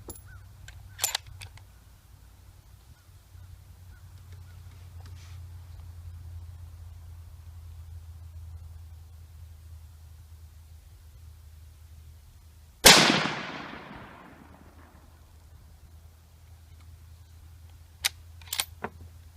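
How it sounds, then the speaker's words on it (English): One sharp, loud Tikka T3 rifle shot at a 100-yard range, cracking out of quiet low outdoor rumble and trailing into a fading echo, with a few faint clicks before and after. "I'll shoot a third one and we'll go down and check."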